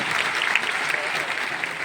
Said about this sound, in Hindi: एक बार जोरदार ताली आपके लिए होनी चाहिए